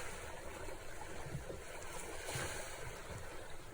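Ocean waves wash onto a beach in a steady, loud surf wash, a continuous rushing hiss that swells slightly without distinct individual breakers.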